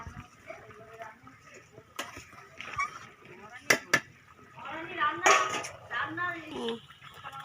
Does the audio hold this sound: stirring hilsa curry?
yes